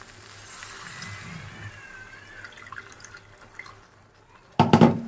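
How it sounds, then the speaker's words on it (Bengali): Hot water goes into a potato curry (Kashmiri alur dom) in a home kitchen: faint drips and soft kitchen noise, then a sudden loud, brief pour and splash in the last half second. "কষানো হয়ে গেছে, এবারে এর মধ্যে গরম জল আমি অ্যাড করে দেবো।"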